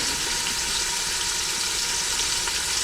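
Pork chops searing on saute mode in an Instant Pot pressure cooker, giving a loud, steady, close-up sizzle and hiss that runs without a break and with no voices.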